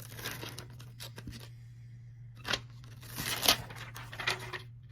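Backing sheet peeled off a UV DTF wrap on a 25 oz cup, giving bursts of close crinkling and tearing over a steady low hum, with a short lull before louder peeling near the end.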